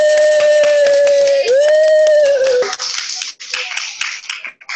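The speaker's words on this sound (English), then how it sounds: "Big round of applause for her, Simora." Audience applause for the final performer at a National Day celebration in a community hospital, steady clapping overlaid by a long, sustained cheering voice that fades to scattered claps near the end.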